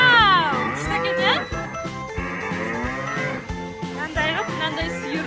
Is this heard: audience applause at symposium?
no